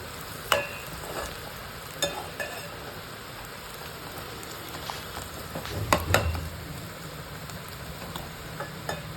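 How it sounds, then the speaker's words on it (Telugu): Onions fry in a pan for a spinach and garlic dish, giving a soft steady sizzle broken by several clicks and scrapes of stirring, with a louder burst of stirring noise about two thirds of the way through. "ఆనియన్స్ ఆల్మోస్ట్ ఫ్రై అయిపోయినాయి."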